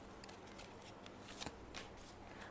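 A tarot deck shuffled by hand gives soft, close riffling and papery card flutters in a few quick bursts, quiet and without speech.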